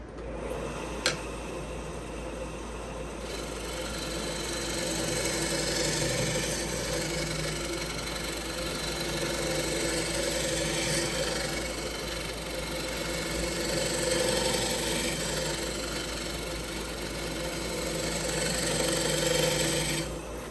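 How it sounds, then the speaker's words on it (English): Wood turning on a lathe as beads are rolled with a bowl gouge, a steady motor hum and vibration underneath a continuous soft cutting hiss, close and even throughout, with a sharp click near the start and no voices. "I'll show a few beads from, you know, basically just watching the tip of the gouge"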